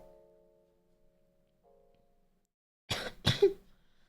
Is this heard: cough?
yes